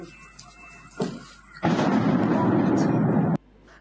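A powerful explosion rumbles for nearly two seconds during a Russian drone attack on Kryvyi Rih around three at night, loud and close, preceded by a smaller blast and a low background hum.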